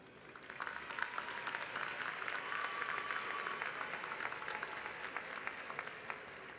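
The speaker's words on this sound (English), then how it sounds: "let's give a round of applause for the teachers" An audience at a student graduation speech applauds for the teachers, many hands clapping steadily at moderate distance with a sustained, fairly quiet roar of claps.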